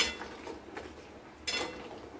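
A metal spoon scrapes and clinks against a cooking pot while ground green chili and ginger paste is stirred for a Bengali hilsa fish recipe, giving a few sharp, close knocks amid soft background noise.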